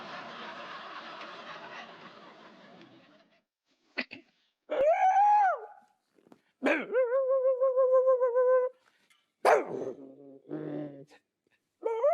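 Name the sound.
dog barking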